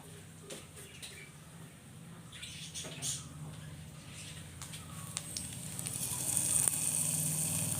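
Hot tempering oil with shallots, mustard seeds, fenugreek, chilli and curry leaves is poured onto a buttermilk curry. It gives a faint, crackling sizzle that grows louder and hissier over several seconds, with no talking.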